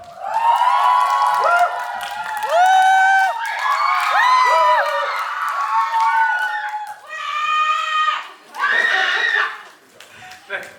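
A packed cinema crowd greets the film cast and director at a Seoul stage appearance for the movie 'Hostage' with loud, sustained cheering and high-pitched fan screams that rise and fall in waves for about ten seconds.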